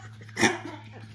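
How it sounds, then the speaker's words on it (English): A single sharp dog bark, fairly close, stands out briefly over a low steady hum. "I'm ignoring her, so she's barking at me"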